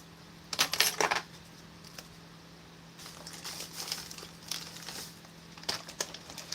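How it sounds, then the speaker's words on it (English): Small scissors snip and crinkle the plastic corner of a US MRE Menu 14 Mexican style rice and bean bowl pouch, a few bursts of close crackling cuts separated by pauses over a low steady hum. "I'm just going to go ahead and cut a corner off of this."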